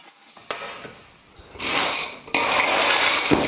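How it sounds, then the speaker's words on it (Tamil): Semolina snack batter is mixed with salt and chili powder in a bowl, giving scraping, clattering utensil-on-vessel sounds that start faint and grow into loud, continuous mixing noise. "காரத்துக்கு இன்னும் கொஞ்சம் மிளகாய்த்தூள் சேர்த்துட்டு நல்லா மிக்ஸ் பண்ணிக்க போகிறேன்."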